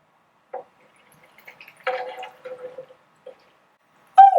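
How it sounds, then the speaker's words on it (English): Water poured into a jar of LECA clay pebbles holding plant cuttings, heard as brief, sparse trickles and drips close by, with a louder splash of pouring at the end. "Fill the water up now."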